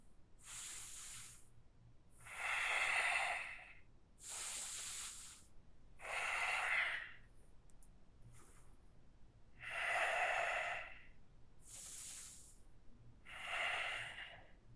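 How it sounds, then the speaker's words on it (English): Slow deep yoga breaths taken while standing in mountain pose, eight long airy inhales and exhales in an even rhythm, close and soft, with quiet pauses between them and no talk. "Take a few breaths here."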